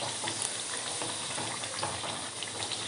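Sweet cucumber vadas frying in hot oil, a dense continuous sizzle with fine crackling pops, close and steady throughout.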